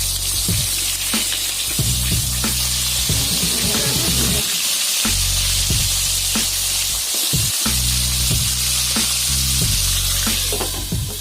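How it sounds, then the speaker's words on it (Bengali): Spiny gourd and eggplant pieces rubbed with turmeric and salt fry in hot oil, a loud continuous sizzle with occasional stirring clatter, close and steady with no talk. "এখন কাঁকরোল আর বেগুন ভেজে নিব।"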